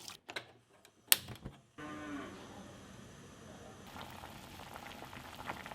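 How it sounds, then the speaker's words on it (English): Water with raw jackfruit pieces, turmeric and salt comes to a boil in a pot on a stove, a steady bubbling hiss that sets in after a few sharp knocks and holds close and even to the end. "Turn on your stove and bring it to a boil."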